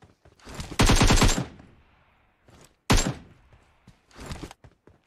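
AKM assault rifle fire in the PUBG Mobile shooter game: a loud rapid burst, a pause, then another sharp burst and a softer later volley, with faint clatter in between and no talk.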